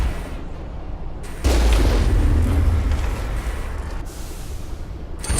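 Slow rockets exploding during combat in the video game Mass Effect: a heavy, rumbling boom lands after a quiet stretch and rolls on with dense low roar and debris-like noise, then eases slightly as another burst begins.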